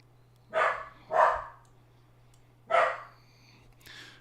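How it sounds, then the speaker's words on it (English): A pet dog barks three times in fairly quick succession at close range, with a short pause before the third bark and a softer yip at the end, over a low steady hum. "This dog. He barks at everything."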